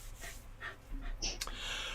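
A dog pants nearby in quick, breathy bursts while a person talks over it.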